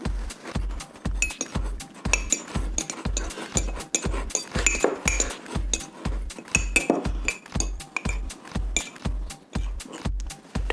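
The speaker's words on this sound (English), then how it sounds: "Using the fork, I am going to nicely mix up" A fork clinks rhythmically against a mug while mixing dry cake ingredients, steady evenly spaced taps heard close up and alone.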